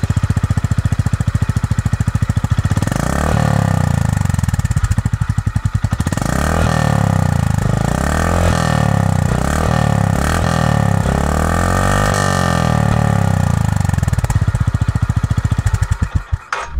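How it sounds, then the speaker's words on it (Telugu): Honda CB350 H'ness motorcycle, 2025 version, with a loud, steady exhaust thump at idle, broken by several sharp throttle revs that rise and fall before it settles back to a rumbling idle. "ఈ బైక్ ఎగ్జాస్ట్ నోట్ ఎలా ఉందో ఒకసారి చూద్దాం మనం"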